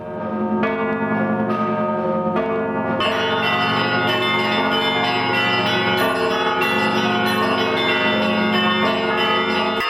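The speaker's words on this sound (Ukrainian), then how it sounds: "Дзвони в цей день лунали, мабуть, над усім Києвом" Church bells peal over Kyiv in a festive, sustained ringing, several bells overlapping with a bright metallic shimmer and long reverberant tails, loud and continuous with no talk.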